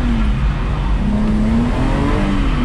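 A car engine runs loud and close at fairly steady revs, its pitch drifting slightly as the throttle changes, over a constant rushing road and wind noise with no talking.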